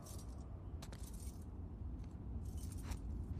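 Keys jangle and clink in The Last of Us Part 2 as a character tries a set of keys, with bursts of metallic rattling at the start and again near the end over a steady low ambient rumble.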